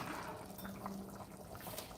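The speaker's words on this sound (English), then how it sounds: "gonna add more water to cook the rice" Water poured into a pot for cooking rice, a faint, brief trickling pour close by with no voices.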